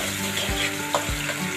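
Chopped onion and cream frying in oil in a pan for macaroni, a steady close sizzle running throughout with a couple of low thumps, no voices.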